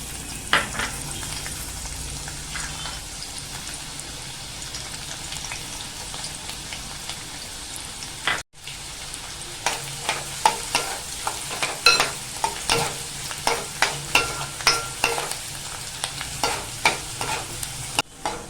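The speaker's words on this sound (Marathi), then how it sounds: "आता आपलं तेल छान तापलेलं आहे आता आपण ना कांदा टाकून घेऊया" Chopped onion frying in hot oil in a heated kadhai for a Malvani egg curry, a steady loud sizzle with a brief break midway, then crackling bursts and repeated scraping stirs, no talking.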